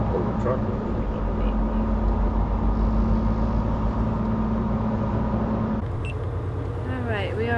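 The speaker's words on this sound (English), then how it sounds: "I'll pull the truck over a little" A truck rolls along the road with a steady, loud engine drone and road rumble filling the cab, a voice speaking over it near the end.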